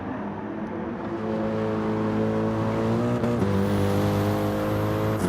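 Race cars in the WM Cash Cup 2024 championship race scream at full throttle, a loud, steady engine whine that climbs and shifts pitch around a gear change, continuous with no voices.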